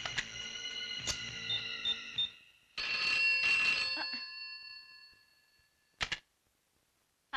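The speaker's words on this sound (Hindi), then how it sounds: "दांडेकर साहब, तनिक अस्पताल में फोनवा तो करके देखिए" A telephone rings while someone calls a hospital, with two long bursts of bright electronic ringing in the distance, a short blip after them, then quiet.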